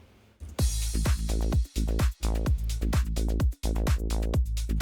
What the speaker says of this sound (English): So now the hi-hats sound like this with the kick and the drums.